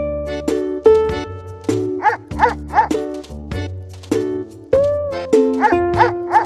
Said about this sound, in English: Lucky the dog, protect the carrots. Tap on the hares so Lucky will chase them away